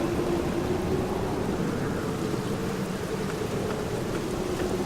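Steady rain pours down in the Black Mirror adventure game, a dense, even hiss that fills the whole clip without a break, with no talking over it.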